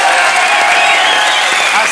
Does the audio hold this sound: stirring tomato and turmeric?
no